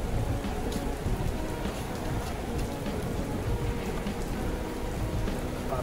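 Steady rain falls outdoors during planting of sweet potato leaves, a dense continuous patter close by with no voices.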